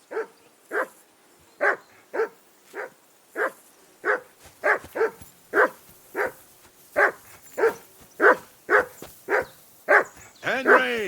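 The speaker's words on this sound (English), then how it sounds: "Whistle at that mutt of yours to stop barking!" A dog barks repeatedly in Kingdom Come: Deliverance 2, about fifteen loud, close, evenly spaced barks in a steady rhythm, ending in a higher whining yelp.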